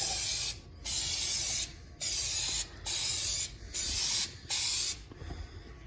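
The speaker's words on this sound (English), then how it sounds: "That's just a pre-spray. Now we'll have to do a second and third coat, maybe a fourth." Automotive clear coat sprayed onto a guitar body from a spray can or gun, heard as six loud, close hissing bursts of about a second each, separated by short pauses.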